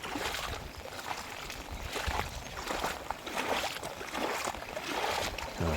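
Steady hiss of rain falling on a Thai farm with rice fields, a dense broadband wash with faint patters throughout, continuous and fairly close, with no voices.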